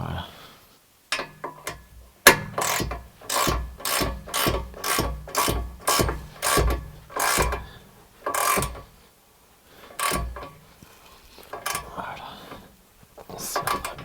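A hand ratchet clicks in quick repeated strokes while tightening exhaust bolts on a Suzuki Swift Sport, steady bursts of sharp pawl clicks with short pauses between pulls, close up, with someone talking at times.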